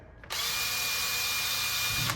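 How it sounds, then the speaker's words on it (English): A power drill spins an engine valve to check it. The motor kicks in abruptly and holds a steady, close, high-pitched whine for about two seconds. "by spinning it on the drill"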